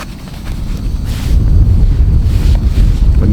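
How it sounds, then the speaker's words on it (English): Wind gusting by a lake in Norway, a broad low rumble and buffeting that strengthens partway through and stays steady, with no talking over it. "you can hear the wind is starting to pick up"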